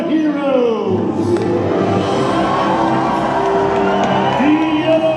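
A large dinner-theater audience at a Medieval Times tournament show in Buena Park cheers and whoops together in a loud, sustained roar close by, with an announcer's voice carrying over the crowd.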